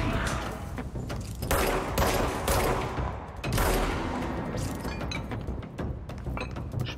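Heavy gunfire fills a firefight in the video game Control, with sustained rapid shots and loud mechanical clatter throughout, all steady and dense, with no voices.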